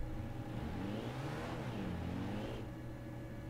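A BMW M4 engine in the driving game Euro Truck Simulator 2 revs up and then settles into a low, faint hum, with no voices.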